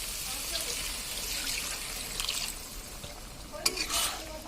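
Water is poured into a fish curry with potatoes in a pan, giving a steady sizzle and stirring with some clinks and scrapes.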